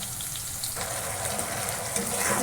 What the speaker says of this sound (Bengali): এবার এই মশলাটা একটু কষে নিই